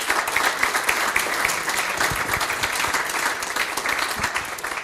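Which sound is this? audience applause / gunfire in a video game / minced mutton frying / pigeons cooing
audience applause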